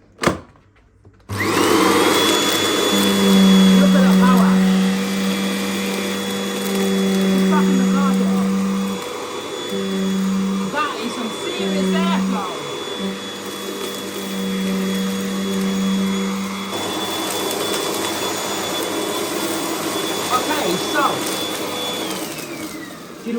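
An Argos Value VU01 upright vacuum cleaner switches on and runs with a steady high whine and a low motor hum, its tone dipping briefly partway through as it moves, then cuts off at the end. Faint talk sits underneath.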